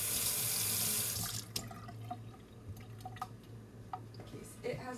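A plastic or metal soap-making utensil is rinsed under a loudly running tap for about a second before the water shuts off, followed by scattered drips and light clinks nearby.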